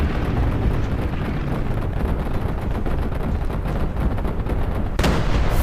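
Continuous loud rumbling battle noise from War Thunder Mobile tank gameplay with a T-34 premium tank, with a sharp cannon blast breaking through near the end.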